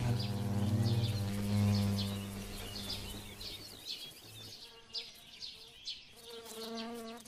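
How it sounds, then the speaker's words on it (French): Male horned mason bees (Osmia cornuta) fight over females, giving a close, continuous droning buzz that rises and falls in pitch as they tussle, with faint bird calls in the background. "des abeilles maçonnes mâles se battant pour les femelles"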